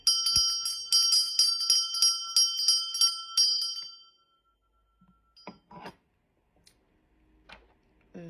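A bright metal bell rings repeatedly in a steady series of strikes for about four seconds, then fades into near silence broken by a few faint rustles.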